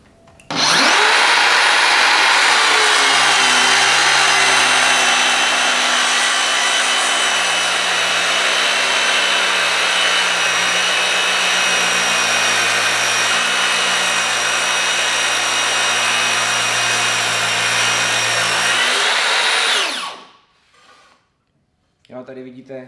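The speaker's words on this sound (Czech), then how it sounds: "už pila normálně jede a můžeme řezat" A Mafell KSS60 cordless crosscut saw cuts wood with a loud, steady motor whine that holds for about twenty seconds, then spins down and stops.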